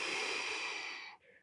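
A single long inhaled breath during a qigong exercise, a close, airy rush that fades out near the end.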